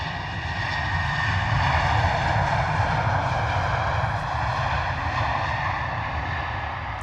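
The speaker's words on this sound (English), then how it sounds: "Not much noise from that EasyJet though, not much noise from that guy at all." An EasyJet airliner passes close by, a steady broadband roar of its jet engines holding level for several seconds without any voices.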